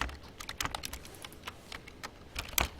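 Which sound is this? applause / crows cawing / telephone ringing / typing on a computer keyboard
typing on a computer keyboard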